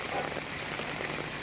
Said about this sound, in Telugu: చూస్తుండగానే వర్షం చాలా గట్టిగానే పడేలా ఉందండి. పెరుగుతుంది వాన.